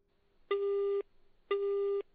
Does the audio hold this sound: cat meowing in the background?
no